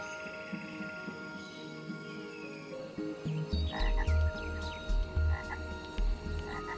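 A frog croaks repeatedly in low, pulsing bursts from about halfway through, close by, over a chorus of insects and distant chirps.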